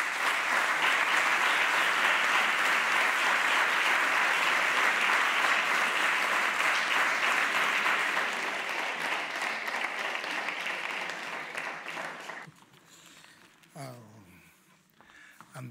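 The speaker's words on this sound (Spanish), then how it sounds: "Un aplauso, por favor." Dense, sustained applause from an audience at a social work awards ceremony in Aragón, loud and steady for about twelve seconds before fading into scattered claps and quieter room noise.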